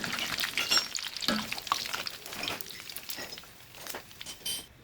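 Tempeh and other ingredients frying in hot oil in a pan, a steady close crackling sizzle with occasional stirring scrapes and utensil clinks, no voices.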